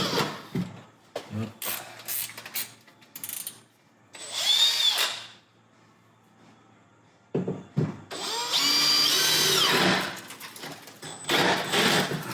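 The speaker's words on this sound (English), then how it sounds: "to drill a hole" A power drill whirs in short bursts, revving up and stopping, with quiet handling noises in between; near and fairly loud.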